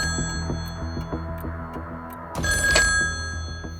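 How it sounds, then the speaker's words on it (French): A telephone rings in a tense domestic scene, a repeating electronic ring pulsing over a low ticking rhythm, then a sharper, brighter burst of ringing near the end, fairly loud and close. "À 18h05, le téléphone sonne."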